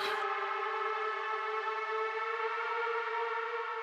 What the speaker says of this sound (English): What especially caught our attention was this haunting siren sound that they sent us.